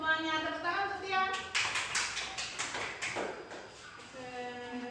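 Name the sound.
class clapping hands for Tian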